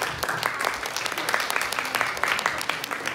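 Steady applause from an audience, many hands clapping together in a dense, continuous patter.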